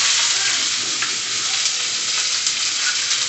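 Onion fries vigorously in a pan with whole spices like cardamom, cloves and black pepper, a loud, dense, unbroken sizzle throughout, no talking.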